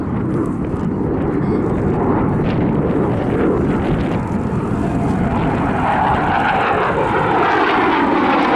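A Saab SK-37 Viggen jet rolls at the Southport airshow, its engine a loud, continuous roar that swells and shifts in pitch as it passes overhead.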